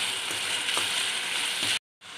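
A mixture of mustard, onion, ginger and turmeric for a raw banana dish simmers and sizzles steadily in a pan, a constant soft crackle that breaks off briefly before resuming.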